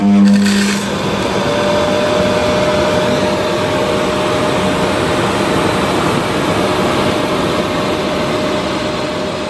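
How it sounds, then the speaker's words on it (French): A loud, steady roar of strong suction from a Xiaomi Robot Vacuum X10 base station emptying the robot, broadband and unbroken from start to finish. "la base, va aspirer très fort. Mais très fort de très fort."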